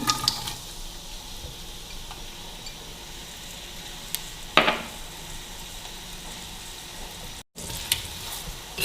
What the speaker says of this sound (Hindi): प्याज को इसके अंदर थोड़ा फ्राई करेंगे।